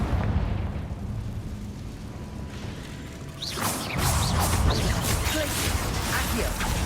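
Fiery Confringo spell blasts burst in a Hogwarts Legacy duel, a loud crackling eruption rising after a quieter rumbling stretch, with several sharp pops layered over the continuing roar of combat.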